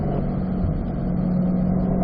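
A car on the Spring Mountain track accelerating out of a corner, a steady loud engine drone held close for a couple of seconds with no talk.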